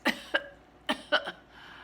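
A few short, soft coughs in quick succession, close by, with quiet pauses between them.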